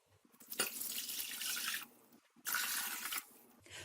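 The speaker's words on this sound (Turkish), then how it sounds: "İçine 2 litre içme suyu koyuyorum." Two litres of drinking water being poured into a container in a kitchen, two gushing bursts of splashing water close by, separated by a short pause.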